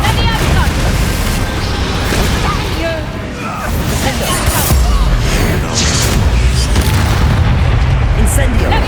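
Confringo blasting spells detonating in Hogwarts Legacy gameplay, a dense, loud, continuous roar of booming explosions and bursts layered with battle noise and voices.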